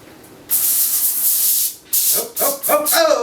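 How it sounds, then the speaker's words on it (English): Several short bursts of non-stick cooking spray hiss close by, a longer spray followed by quicker puffs, with faint clinks between them. "Spray it with a little non-stick cooking spray."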